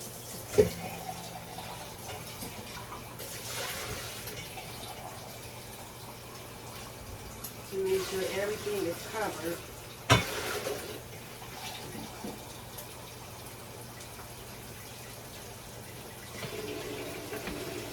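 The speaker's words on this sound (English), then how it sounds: "I think I gotta put a little bit more water in here." Hot tap water pours into a pot of Colombian sancocho soup in a home kitchen, a short gushing fill in bursts with a faint background hum, while someone speaks briefly.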